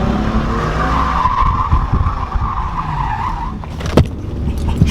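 A Nissan S14 with an RB26/30 engine spins its tires on a nighttime launch attempt, the engine roaring up as a loud rising tire squeal builds, cut by a sharp knock near the end.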